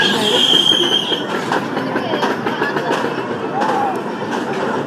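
A train-style amusement ride runs at a temple festival in Manikode, Trivandrum, its steady rumble and clatter going on throughout amid loud crowd noise, with voices mixed in.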